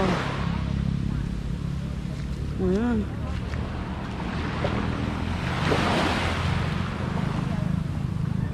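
Ocean surf washing in at the seashore on a mild afternoon, a steady broad wash of waves with wind buffeting the microphone, while people talk and a higher voice calls out briefly.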